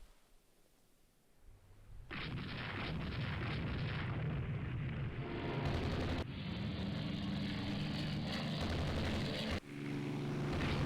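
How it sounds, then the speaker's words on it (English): After a quiet start, a torpedo strikes a Constitution class ship in the naval game Rule the Waves 2, setting off a heavy, sustained explosive rumble that stays loud and dense for the rest of the clip. "Constitution class hit by torpedo."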